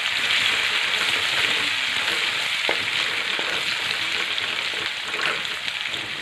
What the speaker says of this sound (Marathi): व्यवस्थित लाल मंगावरती लसूण परतून घ्यायचा